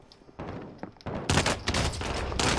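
Call of Duty: Modern Warfare gunfire erupts as loud, rapid bursts of shots after a quieter stretch, continuing in dense volleys to the end.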